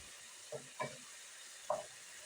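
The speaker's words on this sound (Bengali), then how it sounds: "এদিকে মশলাটাও প্রায় কষানো হয়ে গেছে জলটাও শুকিয়ে এসেছে" A spice paste for a vegetable biryani cooks down in a pan, its liquid nearly dried off, giving a soft, faint sizzle broken by three short scraping stirs, quiet and close.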